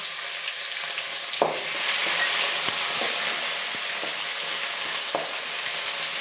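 Garlic and ginger paste frying in a pan with lentils and mustard seeds for a fenugreek-leaf egg bhurji, a loud steady sizzle punctuated by a few sharp spatula taps against the pan.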